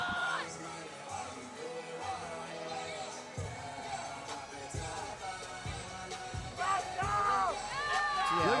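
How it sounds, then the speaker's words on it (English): A hometown crowd cheers at a fight in the Sullivan versus Chapman bout, with whoops, yells and high shouts that swell and grow louder near the end. Voices of the crowd mix with the cheering throughout. "And a big pop from the hometown crowd."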